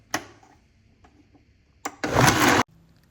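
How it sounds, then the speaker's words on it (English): A blender on high whirs Irish sea moss into a gel in a short, loud, close burst of under a second, preceded by a few soft knocks and clicks. "So what we're gonna do now is blend on high"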